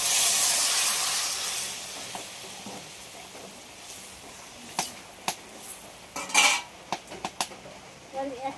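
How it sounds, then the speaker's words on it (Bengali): Ridge gourd and potatoes going into hot masala in a pan: a soft hiss at first, then a scattered series of sharp metallic clinks and taps of a utensil against the pan. "এবার আমি যে ঝিঙে আর আলুটা লাভিয়ে রেখেছিলাম এটা দিয়ে দিচ্ছি।"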